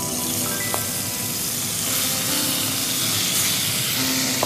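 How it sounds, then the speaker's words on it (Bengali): Shrimp hit hot melted butter in a pan, a loud continuous sizzle and hiss that holds steady throughout, with no one speaking. "বাটারটা আমার গরম হয়ে গেছে শ্রিম্পগুলো দিয়ে দিচ্ছি একে একে"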